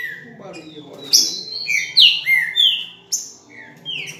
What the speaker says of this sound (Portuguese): Muita coisa pro passarinho cantar, velho.